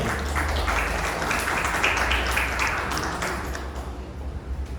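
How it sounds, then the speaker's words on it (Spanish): Congregation applauding during a Spanish-language church service, a dense wash of clapping that holds steady and then thins toward the end, with no speech. "Dame otro aplauso al Señor."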